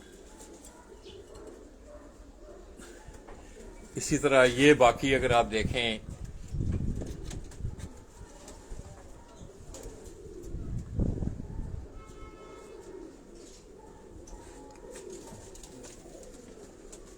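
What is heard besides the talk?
pigeons cooing on a rooftop loft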